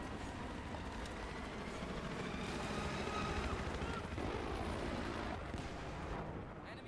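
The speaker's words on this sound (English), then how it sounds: "Our chopper's up." A helicopter drones steadily overhead in a military shooter game set in the Gulf of Oman, mixed with distant gunfire and blasts, with players' voices faintly underneath.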